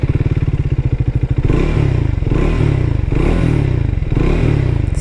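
Triumph Tracker 400 motorcycle engine, a steady idle thumping for about a second and a half, then revved up loudly and held in rising and falling surges close by, with no voices.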